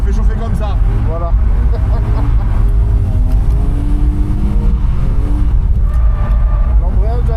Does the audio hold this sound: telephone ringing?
no